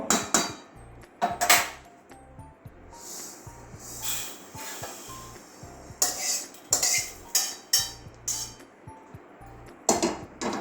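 Roasted moong dal stirred in a pan with a metal spoon, giving close, repeated clinks and scrapes in an irregular rhythm, with brief pauses between strokes.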